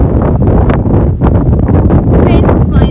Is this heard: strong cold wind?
yes